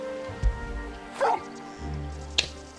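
Dog in the Final Fantasy XVI video game giving a few short yips and whimpering barks, moderately quiet over a low game soundtrack hum.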